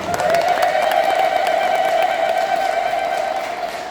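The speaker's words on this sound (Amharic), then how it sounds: "ወንዶች በጭብጨባ ሴቶች በእልልታ እስቲ እናመስግን" Ethiopian Orthodox congregation at a Paris church feast, men clapping and women ululating in praise, a dense sustained crowd roar with a steady high trilling tone running throughout, loud and continuous.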